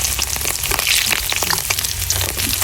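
Pork fat rendering into lard in a pan, a loud, dense crackling sizzle with rapid popping bubbles and occasional stirring scrapes, close up and continuous, with no voices.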